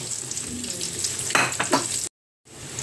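Onions frying in a pan with a steady hiss and sizzle, a few louder stirring scrapes midway, then a sudden brief silence before the frying resumes.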